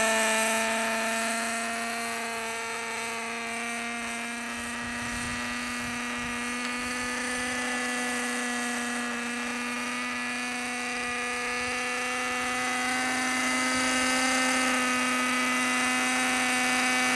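A Kestral RC model helicopter flies with a steady, high-pitched electric whine that keeps an even tone throughout, close and unbroken with no voices.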